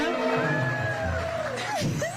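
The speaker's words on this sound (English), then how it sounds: "can we get another round of applause for Lauren?" A crowd cheers and whoops with scattered shouts and yells, lively and close, though clapping is not distinct.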